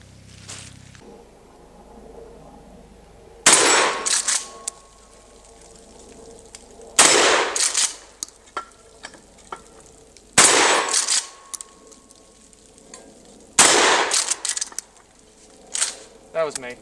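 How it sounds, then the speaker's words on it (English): A Remington 870 pump-action shotgun fires four loud, sharp blasts roughly three and a half seconds apart, each followed by the clack of the pump being worked, outdoors with faint ambient noise between shots. "I just ran 50 shells through it"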